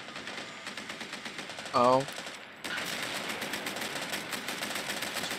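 Rapid machine gun fire rattles steadily in a Call to Arms armor battle game, a continuous chattering stream of shots at moderate distance, briefly broken by a short spoken exclamation.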